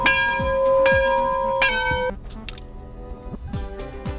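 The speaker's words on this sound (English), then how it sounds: "Somebody ring the bell!" A bell rings out in a few sustained strikes, bright and resonant, then fades into quieter tapping and background noise.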